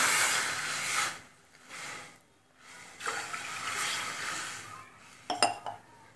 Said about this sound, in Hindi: मैंने एक कढ़ाही में अब ये मैं दो गिलास पानी ले लूँगी